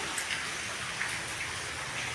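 Steady heavy rain pours outside during Cyclone Remal, an even, dense hiss of drops on surfaces filling the whole stretch without pause, with no talking.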